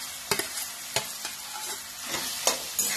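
Chili-ginger paste frying and crackling in a pan for potato patties, a steady close sizzle with sharp pops and stirring scrapes at irregular intervals.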